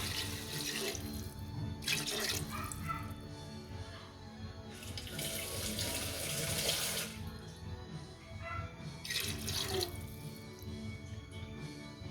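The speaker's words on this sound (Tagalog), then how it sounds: "lagyan natin ng tubig" Tap water runs and splashes steadily into a cooking pot of beef kaldereta, with a few louder surges of flow and a low background hum.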